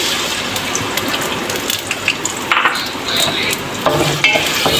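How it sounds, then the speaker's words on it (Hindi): Chopped onions fry in hot oil in a pan, a steady close sizzle with occasional stirring scrapes and bursts of crackle, no voices. "प्याज को गोल्डन होने तक मैं इसको फ्राई करूँगी।"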